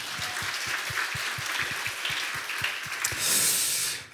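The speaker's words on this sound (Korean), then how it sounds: "우리 하나님께 감사의 박수" A church congregation applauding during a Friday service, a broad clapping wash with a rhythmic low thump beneath it that swells louder near the end before fading.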